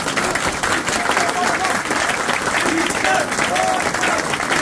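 Sustained applause and clapping from a crowd greeting a mayoral candidate as he enters a CHP district party office in Bakırköy, steady and loud throughout with voices mixed in.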